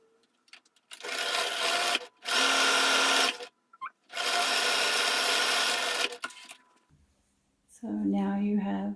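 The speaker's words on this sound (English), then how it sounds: "So I'm going to do the bottom now." A sewing machine stitches the bottom seam of a fabric face mask in three loud, close bursts of rapid whirring separated by short pauses, followed by a moment of speech at the end.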